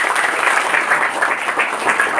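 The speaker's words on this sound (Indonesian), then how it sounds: "Tepuk tangan dulu." A crowd claps in sustained applause, a dense steady patter of many hands throughout.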